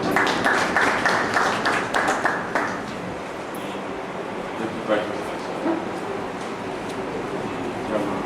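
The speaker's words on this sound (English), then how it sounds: "A round of applause." Audience applause at a gathering for security staff, following an introduction of the Chief Security Officer; broadband clapping fills the opening seconds, then thins and fades as a voice continues under a murmuring room.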